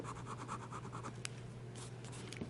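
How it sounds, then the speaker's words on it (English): A wet, medium-nib fountain pen scratches across paper in quick repeated strokes, looping out a run of S shapes, close and quiet with a steady low hum beneath. "A nice wet nib, a nice medium nib that writes very well."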